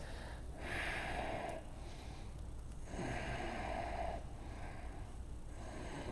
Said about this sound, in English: breathe deep, couple more breaths